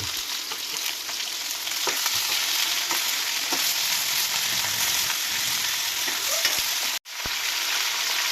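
Tomatoes frying in a pan of sizzling oil for a mutton kushka, a steady loud hiss with scattered crackles and a few soft stirring knocks, broken by a brief cut near the end, no speech.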